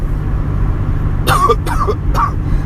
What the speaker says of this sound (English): Bear with me, people, if I cough a couple times.